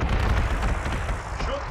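Heavy artillery barrages in the Panzer Corps 2 wartime strategy game, with dense, continuous rumbling booms and blasts filling the whole stretch at close, loud range.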